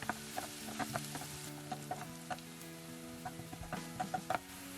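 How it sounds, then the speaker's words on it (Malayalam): Sliced shallots sautéing in oil over medium flame for a Kerala fish curry, with a quiet, steady sizzle and light, regular ticking spoon taps against the pan, close and faint. "ഇനി ഈ ചെറിയുള്ളി ഒരു ഗോൾഡൻ കളർ ആവുന്നത് വരെ മീഡിയം ഫ്ലെയിമിൽ ഇടവിട്ട് ഇളക്കി വഴറ്റിയെടുക്കുക"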